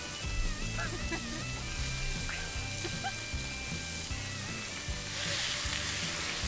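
Skirt steak sears on a hot griddle, a steady low sizzle and crackle running quietly throughout with no talking.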